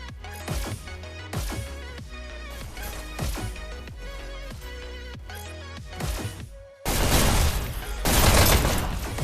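Shotgun fire in the video game HyperDash, a rapid run of sharp, punchy blasts repeating in quick bursts, followed by a louder stretch of dense, noisy crashing and explosion-like roar.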